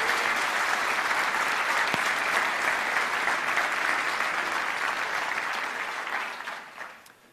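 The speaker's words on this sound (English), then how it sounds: "So please join me in a round of applause for the Eurogamer team" A large audience at the Eurogamer Expo 2013 applauds the Eurogamer team, a thick, sustained roar of clapping that holds steady for several seconds before tapering off near the end.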